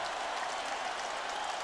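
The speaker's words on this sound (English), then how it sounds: "This crowd is on its feet." Arena crowd noise from a UFC heavyweight bout in EA Sports UFC 3, a steady loud roar of cheering and applause that holds without break as the fight nears its end.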